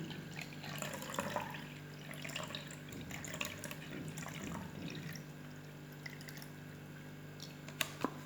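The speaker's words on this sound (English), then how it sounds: "now again I will pour 250 ml glass of water" 250 ml of water poured into a measuring jug in a classroom demonstration, a quiet, steady trickle and splash with a few faint drips and clinks, close by and without talk.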